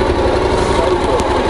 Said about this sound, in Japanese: エンジンをかける